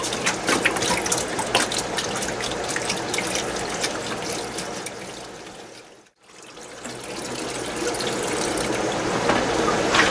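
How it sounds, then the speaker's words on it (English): Water from a heavy 5-gallon bottle pours steadily into an indoor hydroponic tank, a continuous close splashing gush that briefly cuts out midway as the flow pauses, then resumes just as full. "5 gallons fills this right up to this little support line"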